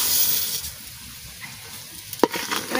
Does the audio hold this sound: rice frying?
yes